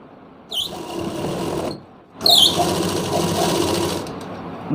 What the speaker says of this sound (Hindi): हमें यहाँ पे एक सिलाई लगा देनी है किनारे की।